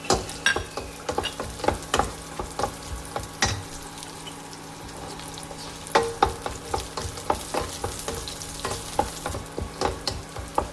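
Nuts, cloves, cardamom and cinnamon sizzle in a pan over medium flame, with frequent sharp stirring clicks and scrapes against a steady frying hiss, close and fairly loud, with no speech.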